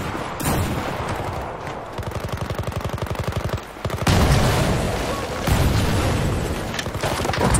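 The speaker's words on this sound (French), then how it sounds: "Je m'amuse avec les grenades, ça aide." Rapid machine-gun fire crackles in a steady burst, then heavy booms of grenade explosions and more gunfire fill the mix in a chaotic Battlefield 4 battle at a factory, loud and dense throughout.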